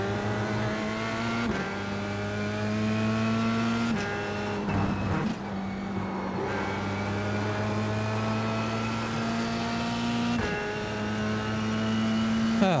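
Dallara F3 race car at speed on Virginia International Raceway, its engine holding a loud, steady high-pitched whine with sharp gear-shift breaks and pitch climbs, close and continuous throughout.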